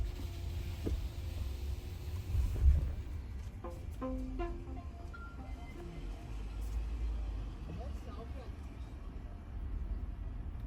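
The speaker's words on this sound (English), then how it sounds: "You can hear all the outside noise." Outside road noise comes through the open window of a Tesla Model Y: a steady low rumble of traffic and tyres, with someone talking over it.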